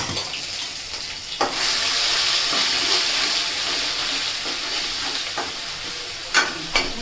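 Onions fry in a pan for a stuffed brinjal (gutti vankaya) curry, giving a steady, close sizzle throughout with a few sharper stirring clicks and no talking.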